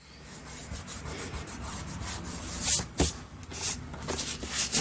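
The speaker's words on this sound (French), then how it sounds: "je vais gommer le haut" Pencil marks are erased from a vintage baby photo album page in a series of soft, scratchy rubbing strokes, close and quiet, with a few sharper swipes toward the end.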